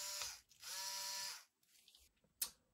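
A Wiha Speed-E electric screwdriver's small motor whirs in short, close bursts of high-pitched buzzing, separated by quiet gaps and a faint click.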